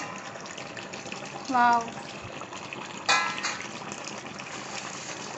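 Country chicken boiling in a pot for a spicy curry, giving a steady bubbling hiss throughout, with two short voiced exclamations rising above it.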